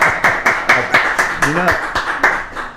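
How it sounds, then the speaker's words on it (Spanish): Hands clapping in a steady rhythm, about ten sharp claps at an even pace, close and loud, with a voice talking over them. "yo estoy aplaudiéndole a Domingo Rivarola"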